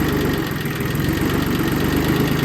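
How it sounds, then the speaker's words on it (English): An Iseki tractor's engine idles with a loud, steady, even rumble and a fine mechanical vibration throughout, close up and with no talk. "this engine is a little bit newer, so it starts more easily"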